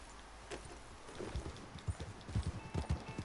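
Soft hoofbeats clip-clop in an irregular rhythm, growing a little louder toward the end over a faint background hiss.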